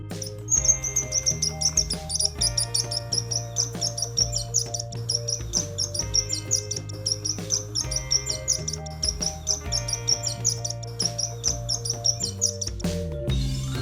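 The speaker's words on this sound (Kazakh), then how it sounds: "Sparrow." A sparrow chirps in quick, continuous high tweets over a steady musical backing, bright and close, with no talk.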